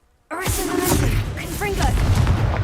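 Confringo fire spell blasts in Hogwarts Legacy, a loud burst of booming, crackling explosion with layered magical whooshes, sustained and dense after a sudden start, with a voice heard over the effects.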